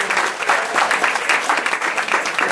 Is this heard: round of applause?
yes